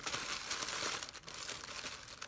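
Tissue paper crinkles and rustles as a mailed package is unwrapped, a close, loud run of crackling handling noise with brief pauses and no talk.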